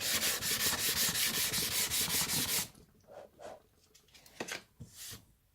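Wood being hand-sanded with 140-grit sandpaper, a close, loud run of rapid rhythmic scratchy strokes for about two and a half seconds, then a few fainter, scattered rubs.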